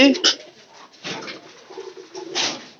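Pigeons coo in bursts close by, with people talking over and between the calls.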